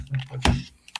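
Brief keystrokes on a computer keyboard, a few soft clicks and one sharper tap, faint and close, with no one speaking.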